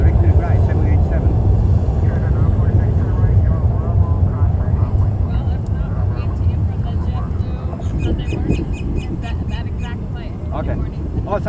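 A Boeing 787 airliner rumbles at Fort Lauderdale-Hollywood International Airport, a loud sustained engine roar filling the scene while people talk over it.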